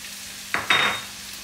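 Chili, ketchup and soy sauce hitting a hot frying pan for chilli chicken, giving two sharp bursts of sizzle that swell and then settle into a steady frying hiss, close and fairly loud, with no talking.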